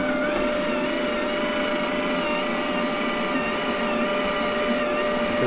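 A multi-process welding machine feeds out wire, giving off a steady, fairly loud motor whine and hum that holds constant throughout with no voices.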